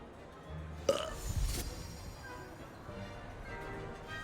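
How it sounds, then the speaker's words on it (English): An elf character in Hogwarts Legacy lets out a single short burp, faint and followed by quiet background game ambience. "I thought that elf burped and then peaced out."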